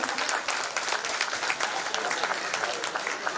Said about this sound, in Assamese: ৰাইজক এটা হাত চাপৰি দিবৰ কাৰণে অনুৰোধ জনাইছোঁ।